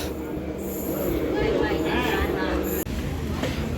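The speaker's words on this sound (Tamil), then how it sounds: "ஸோ ட்ரெயின் போயிட்டுருக்கு ராமநாதபுரம் ஸ்டேஷன்லேருந்து." Pamban Express pulling out of Ramanathapuram station, a steady broad rail rumble with faint wheel squeal near the platform, running under people talking.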